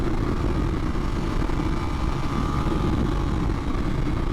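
KTM 1390 Super Duke R motorcycle under power on a track, a steady loud engine drone with heavy wind rumble that holds constant throughout, no clear rise in pitch.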